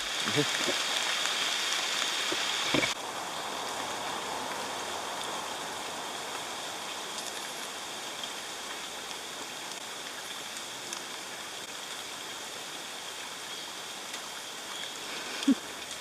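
Steady rain hisses on all sides at Blue Hole National Park near Hopkins Village, Belize, a constant wash of drops with no clear pauses, and a couple of faint thumps near the start.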